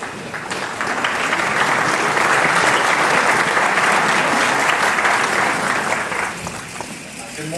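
Audience applause at the White House Tribal Nations Conference: a loud, full round of clapping from a sizable crowd, steady and unbroken for about seven seconds before tapering slightly.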